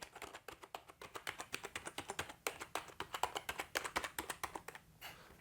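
Quick, crisp keystrokes clatter in a steady typing rhythm on a 2E Gaming KG300 keyboard, fairly close and quiet, with a short pause near the end.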